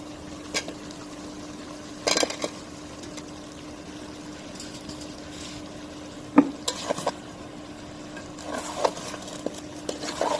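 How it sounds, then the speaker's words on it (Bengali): Country chicken meat with potatoes being stirred and fried in a pan, a soft continuous sizzle with scattered clinks and scraping stirs of a utensil, louder clusters near the middle and end. "দেখুন একবারে কষাই নিচ্ছি ভাজা ভাজা করে"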